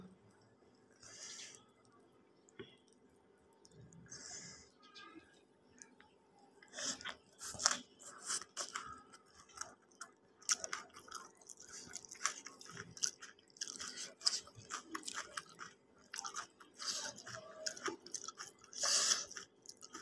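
Someone eats hot rice with fried fish, onion, green chili and lemon. Close, soft, wet chewing and occasional crunchy bites repeat irregularly at low volume, with no talk.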